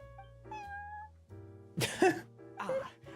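Prince, the cat at the Cat's Tail in the game Genshin Impact, lets out a couple of clear, close meows, followed by short breathy rustling bursts.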